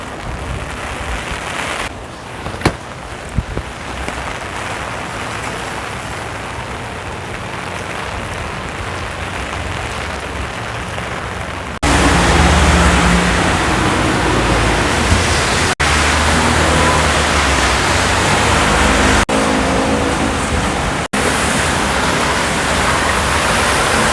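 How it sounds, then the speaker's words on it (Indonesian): A typhoon drives heavy rain and strong wind in a dense, continuous roar that grows louder partway through, broken by a few brief clicks, with no voices. "Wah, typhoonnya beneran datang."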